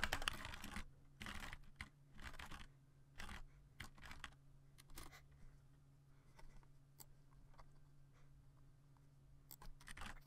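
Fast, irregular keystrokes on a computer keyboard while game mod code is typed. The clatter comes in bursts and pauses over a steady low hum, close and moderately quiet, with no talking.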